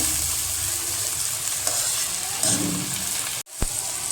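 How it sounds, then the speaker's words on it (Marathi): Chopped tomatoes fry with onions in a pan, a dense steady sizzle with brief stirring scrapes and one sharp knock near the end. "टॅमॅटो या कांद्यामध्ये पूर्ण व्यवस्थित मिक्स होईपर्यंत किंवा त्याचं पूर्ण शिजून घ्यायचं आहे."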